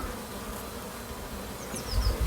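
Honeybees buzzing at a beehive entrance while carrying pollen, a dense continuous hum of many insects close by, with a few faint bird chirps toward the end.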